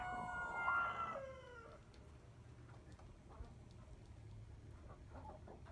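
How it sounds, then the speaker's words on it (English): A broody hen gives a low, growling, dinosaur-like vocalization up close, a brief rough call at the start followed by quieter clucking and rustling in a coop. "You can hear the dinosaur noise that she's making"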